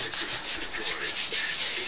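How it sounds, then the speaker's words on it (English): Rhythmic, abrasive rubbing of sandpaper on a wooden Gothic chest, close and steady, in repeated back-and-forth strokes with a constant high whine behind it. "there was a lot of sanding and polishing going on"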